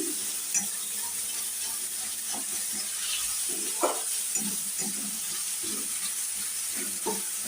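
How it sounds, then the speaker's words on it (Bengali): Tomato and onion fry in a pan at home, giving a steady, close hiss broken by soft irregular stirring scrapes throughout, with no talking. "এখানে টমেটো আর পেঁয়াজটা ভাজছি"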